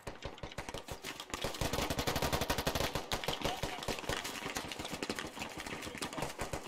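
Rapid, sustained gunfire from the tactical shooter Squad, dense bursts of shots firing close and loud for the whole stretch, with a few single cracks at the start.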